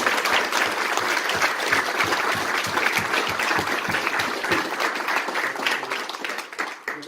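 An audience at a book presentation breaks into sustained, dense applause, loud and steady throughout before thinning slightly near the end.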